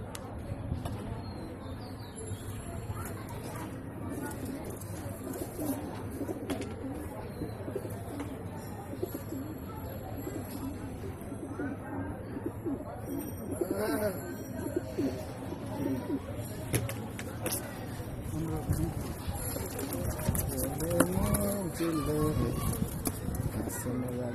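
Young pigeons coo in soft, repeated low calls throughout, with people talking nearby over a steady background murmur.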